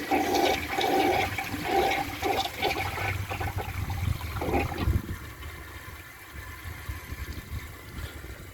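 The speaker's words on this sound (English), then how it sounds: "let's see if it can take a dish towel and a little flapper chain disc" A 2002 American Standard Cadet toilet flushes a dish towel and a small flapper chain disc, with a loud rushing swirl that tapers to a quieter trickle as the tank refills.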